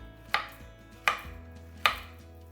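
Three sharp knife chops through peeled bananas on a cutting board, each a crisp clack with a short decay, spaced about three-quarters of a second apart over a low steady background hum.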